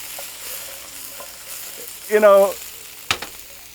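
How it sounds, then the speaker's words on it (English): Eggplant and other vegetables saute in a hot pan with a constant close sizzle, a brief voiced sound partway through, and a sharp clatter of a utensil near the end. "I'm going with a little eggplant in there. Throw it all in there. And you want to kind of saute that up real quick."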